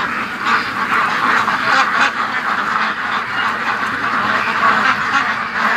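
A group of ducks quacks continuously and close by, with gusty wind noise underneath.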